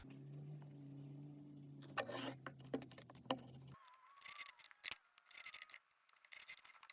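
Scissors cut strips of paper for handmade beads. A run of crisp snips and rustling paper sounds close up, with a steady hum at the start and no speech.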